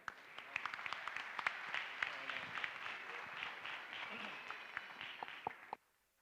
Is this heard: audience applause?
yes